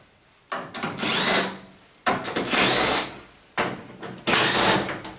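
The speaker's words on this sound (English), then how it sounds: "go to the back of the machine and remove the screws there" A powered screwdriver unscrews the screws on the back panel of a Zanussi vented tumble dryer, whirring in three separate close, loud bursts of a second or so, with short quiet gaps between them.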